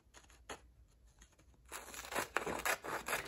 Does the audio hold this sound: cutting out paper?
yes